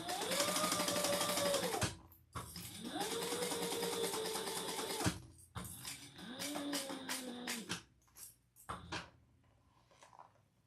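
A sewing machine stitches in three long, steady bursts of motor whir, each followed by a pause and a few short clicks, close and fairly loud, with no talking.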